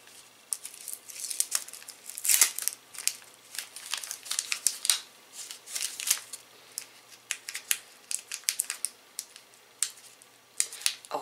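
Sticky tape is peeled off an advent calendar's packaging in a series of short, crackling rips and crinkles, close and fairly quiet, with pauses between pulls.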